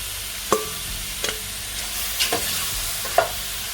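Tempered cuttlefish sizzles softly in a pan as it is stirred. Four or five sharp spoon scrapes and knocks stand out at uneven intervals over the low, constant frying hiss.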